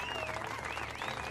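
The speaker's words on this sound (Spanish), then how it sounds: "Fuerte el aplauso." Brief burst of audience applause after a magic trick on stage, a dense clapping wash with voices and cheering tones mingled in, close and fairly steady.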